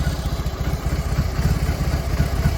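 A BMW R18 Transcontinental's 1800 cc boxer twin idles close up with a steady, deep, loping pulse and a mechanical clatter. It runs alone at an even level.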